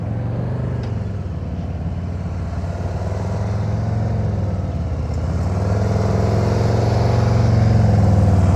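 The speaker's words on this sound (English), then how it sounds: "I can hear Demetrius' engine from here" A motorcycle engine held at steady, elevated revs during slow-speed riding practice, droning continuously at close range with a low rumble that builds slightly toward the end.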